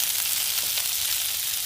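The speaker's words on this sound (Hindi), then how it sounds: "ये देखें अच्छी तरह फ्राई हो चुके हैं और ये टूट भी नहीं रहे।" Seekh kababs of finely ground mince frying on a tawa over a medium flame, giving a steady, even sizzle with a soft crackle throughout and no talk.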